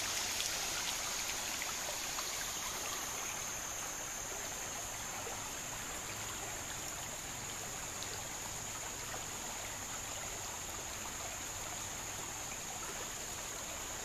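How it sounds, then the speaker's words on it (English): The South Fork of Quantico Creek in a forest park flows in a constant, even rush of running water, a close, unbroken babble with faint trickles and no voices over it. "This is the South Fork of Quantico Creek."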